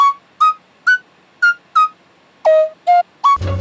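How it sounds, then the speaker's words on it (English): Dry, unprocessed flute sample from Splice playing a simple breathy melody of eight short, evenly spaced notes, clear and close, ending on a brief low thump. "I found this flute sample on Splice"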